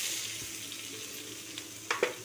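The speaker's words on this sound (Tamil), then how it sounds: "அந்த ஜீரகம் பொரிஞ்சதும் ஒரு கப் வெங்காயம் அது இதோடு சேர்த்துக்கணும்." Chopped onion dropped into hot oil with crackling cumin seeds, giving a faint, steady frying hiss with a couple of small stirring knocks near the end.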